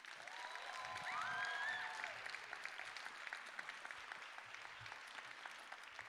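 A crowd at a music competition heat claps for a departing organiser, with a swell of applause and whoops early on that settles into sparser, scattered clapping, fairly faint overall.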